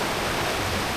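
Rushing creek water tumbles through Wilson's Creek chasm near Wanaka, New Zealand, a steady, loud, close wash of white noise with no break and no voices.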